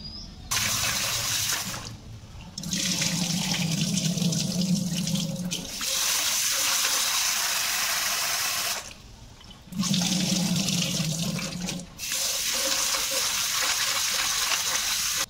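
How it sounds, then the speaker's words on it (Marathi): Tap water gushes over soaked lentils (dal) being rinsed in a kitchen sink, running loud and steady in two long spells broken by brief pauses, close by and without speech. "तर धुवून घ्यायची ही 2-3 वेळा पाण्याने"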